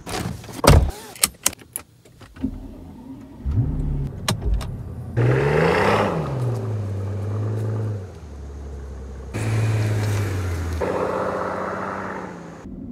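A car door thuds and clunks, then a Mercedes-AMG S65 engine starts and revs through a few gear changes, the motor droning steadily between shifts.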